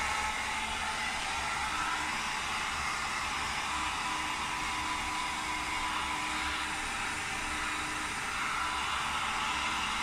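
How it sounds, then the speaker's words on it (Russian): Hair dryer blowing steadily on a painting during an art lesson, a loud continuous airy roar that holds level for the full stretch with no talk over it. "Ну что же, работай, фен."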